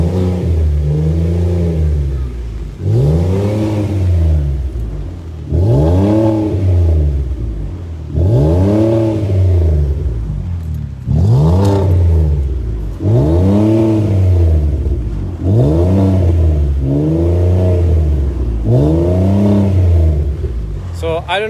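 A V6 Ford Explorer with an aftermarket exhaust revs again and again, about eight loud, rising and falling engine sweeps in a steady rhythm, each one swelling and then dropping back between pulls.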